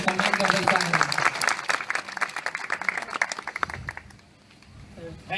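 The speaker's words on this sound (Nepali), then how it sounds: "ESD इन्द्रजित यादव सरलाई ह्युज तालीले सम्मान गर्दैछ" An audience at a Tihar Deusi-Bhailo celebration bursts into loud, sustained applause, dense clapping that runs for about four seconds before fading quickly into quiet.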